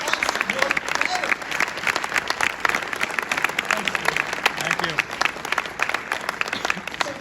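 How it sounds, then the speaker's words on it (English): Steady applause from a sales conference audience fills the hall for several seconds, with many hands clapping at once and a few voices under it. "Let's hear a round of applause for everybody that supports us every day and makes us work better."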